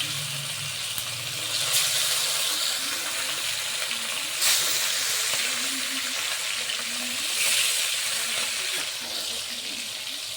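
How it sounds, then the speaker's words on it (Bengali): Fish slides into a hot wok and fries with a steady, bright sizzle that swells and crackles in short bursts. Faint clatter of a utensil and stirring mixes in at close range. "এবার একটু মাছ ছেড়ে দেব।"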